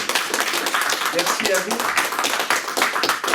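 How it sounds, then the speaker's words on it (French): An audience applauds after a talk, clapping in a brisk, uneven patter heard under a speaker's voice, moderately loud throughout. "on va encore vous applaudir"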